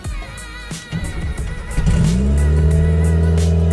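A boosted Mazda Miata engine turns over after a few rattly cranking beats, then catches and roars into a loud, steady close-up rev and idle.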